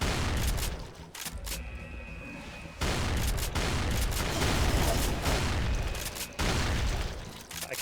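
Loud gunfire from enemies being shot in a modded Doom (1993) on PC comes in rapid, booming bursts. The volleys are broken by brief pauses and stay dense and close.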